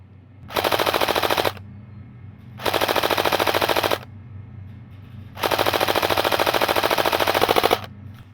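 A Delta Armory AK47 airsoft rifle fires three rapid automatic bursts, the last one longest, each a dense buzzing rattle of shots with short quiet gaps between.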